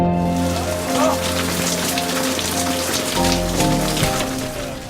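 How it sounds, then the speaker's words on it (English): Heavy rain pours down steadily, a dense continuous patter on surfaces, with faint voices and low hum in the background. "I saw just rain pouring down."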